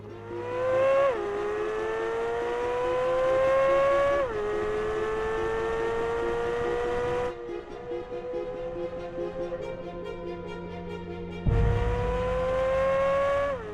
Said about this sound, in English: This car goes so fast, so easily, and the ability to just kind of handle the car on this track is pretty unheard of.